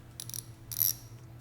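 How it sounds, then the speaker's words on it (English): An 8mm socket ratchet backs out the upper headlight cowling mounting bolt on a Yamaha WR250. Two brief, close bursts of quick metallic pawl clicking sound over a low background hum. "So we're going to go ahead and take the upper mounting bolt off."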